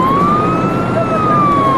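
A fire truck siren sounds close and loud, one steady wailing tone rising and falling slightly over a constant road rumble.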